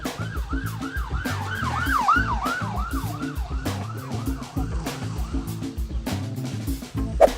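A wailing police siren cycles rapidly up and down in a steady yelp, loud and close, with traffic rumbling beneath it.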